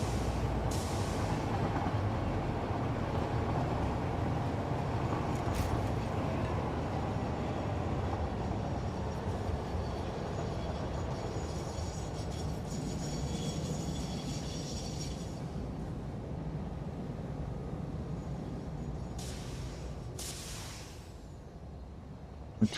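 A train in the video game Satisfactory moving along and gradually slowing, a steady rumbling roar with faint clanks and brief hissing bursts near the end, no voices.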